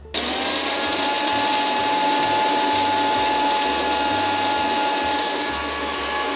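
An electric grinder turns coffee beans into powder, giving a loud, steady mechanical whir with a droning hum that starts abruptly and runs continuously throughout.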